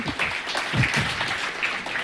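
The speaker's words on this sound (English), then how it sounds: "a round of applause to the lady and gent" Scattered applause for a lady and gentleman on a live Kenyan news broadcast, brief and moderately close, with some muffled low thumps mixed in.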